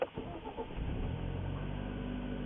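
A 2012 Hyundai engine with a new GDI high-pressure pump starting, a brief crank that catches quickly and settles into a steady close idle.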